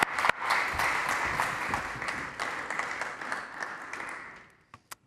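Conference audience in a hall applauding as a speaker is welcomed to the stage, a full burst of clapping that holds steady for several seconds, then thins and dies away into a few last scattered claps.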